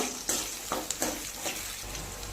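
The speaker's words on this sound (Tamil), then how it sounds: "வெங்காயம் நல்லா வதக்கிக்கலாங்க." Shallots and garlic sautéing in a pan, a steady gentle sizzle broken by several quick stirring scrapes and taps of a spoon, close and fairly quiet, with no talking.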